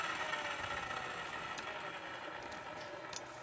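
Rear wheel of a Honda Beat or Vario scooter spinning after a pulley replacement, giving a steady, fairly quiet mechanical whir with faint light ticks throughout.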